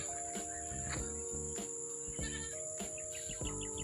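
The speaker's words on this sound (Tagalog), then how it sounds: "May mga kambing dito sa paligid." Goats on a Bulacan farm at dusk, with faint repeated bleats at scattered moments over a steady insect and cricket drone and a constant high electronic hum, no voices.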